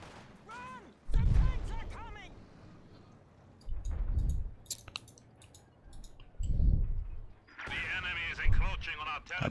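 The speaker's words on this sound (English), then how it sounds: "More mines popping off." In a Company of Heroes 2 1v1 tournament match, mines detonate as several dull, low booms a few seconds apart, mixed with game clicks and gunfire under a commentator's voice.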